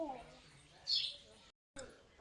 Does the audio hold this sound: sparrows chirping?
yes